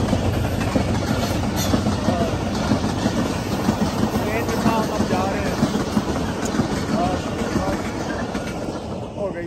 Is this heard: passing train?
yes